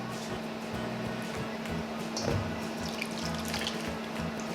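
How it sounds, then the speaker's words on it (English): Milk poured into vanilla cupcake batter in a home kitchen, a soft steady liquid trickle lasting a few seconds with no talk. "Then we can add the milk."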